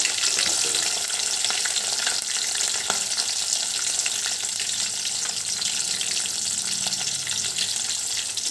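Onions and green chilies fry in hot oil in a pan, giving a steady, close, loud sizzle that runs unbroken the whole time with small crackles.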